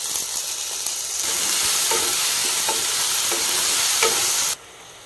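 Tomatoes sizzling in hot oil in a pan for poha upma, a loud close frying hiss with a few rhythmic scraping stirs of a spatula, cutting off abruptly near the end.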